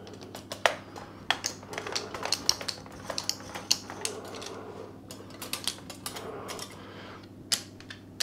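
Bottom of a miner's safety lamp screwed on by hand, giving a string of small, close metallic clicks and scrapes at an uneven rhythm over a steady low background hum.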